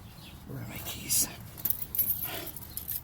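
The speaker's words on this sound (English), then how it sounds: "Okay, where are my keys?" Car keys for a 2006 Kia Rio jangle in a few brief bursts during ignition coil pack work, fairly close and moderately loud over low background rumble.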